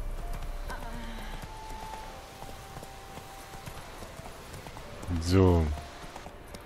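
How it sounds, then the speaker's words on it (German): A horse's hooves clip-clop softly while riding in The Witcher 3, a steady muted rhythm under quiet talk, then a brief louder snort or whinny near the end. "Dann reiten wir mal zurück zu."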